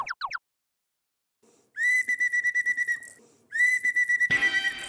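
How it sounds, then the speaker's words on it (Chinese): A whistle blown to gather a team of children on an outdoor treasure-hunt game gives two long sustained shrill blasts, loud and close, each trembling with a rapid trill, after a short chirp at the start. "吹口哨是集合，不要跑。"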